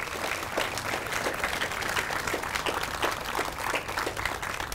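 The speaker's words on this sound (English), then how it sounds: "Lupe deserves another round of applause for getting us to here." Moderate applause from a gathered crowd for Lupe at a Bellevue Public Library ribbon cutting, with individual claps audible in a steady, slightly uneven patter heard at some distance.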